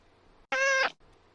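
A cat gives a single clear, close meow lasting about half a second, loud against an otherwise quiet room.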